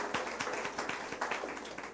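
A church congregation applauding: steady rhythmic clapping from many hands at a moderate distance, brief and without other voices.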